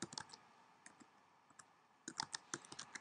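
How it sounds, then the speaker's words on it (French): Someone types a colleague's name on a computer keyboard in short bursts of faint, close key clicks with a few pauses between them, and no one speaks. "je vais venir simplement taper le nom"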